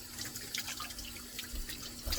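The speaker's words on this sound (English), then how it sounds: "wash the tomato under running water." A tomato rinsed under a running kitchen tap, with a steady close stream of water splashing and trickling for a couple of seconds.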